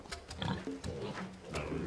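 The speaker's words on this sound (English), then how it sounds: "She's the mother pig. She's come to get her piglets." A mother pig grunts in a short run of close, irregular low snorts and oinks, with a brief voice at the end.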